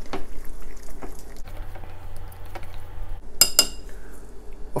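Gochujang sauce mixed in a bowl for spicy chicken feet makes soft squishing and light clinks of a utensil against the dish, close and fairly quiet, with a brief sharper clatter near the end.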